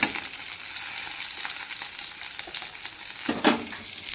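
Okra sizzles and fries in a pan on a home stove for a tiffin lunch, a steady crackling hiss with occasional stirring scrapes and a sharper clatter near the end, close and without talk.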